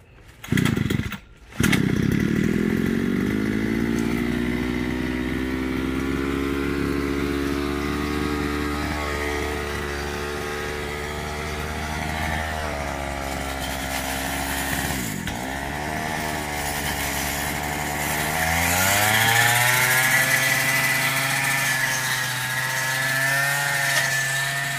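A small two-stroke grass cutter engine starts with a few sputters, then runs steadily at a loud idle and revs up toward the end, close by, with no talk.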